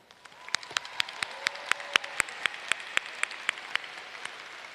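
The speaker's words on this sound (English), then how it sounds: "Let's take a moment to give them a round of applause." A small audience at a high school graduation claps for parents, family and friends, with sparse, distinct individual claps ringing out in a loose rhythm over a quiet roomy background.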